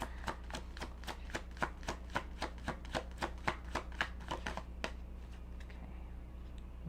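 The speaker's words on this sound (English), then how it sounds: "Let me give it one more shuffle and see if this last card will fall out." Tarot cards being shuffled in the hands during a reading, a quick, even run of crisp riffling snaps that stops abruptly, followed by a few faint soft taps in a quiet room.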